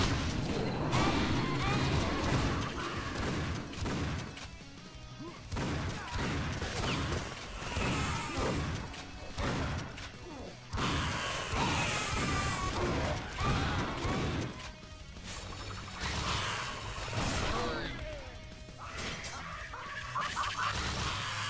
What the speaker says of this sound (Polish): Fajerwerki.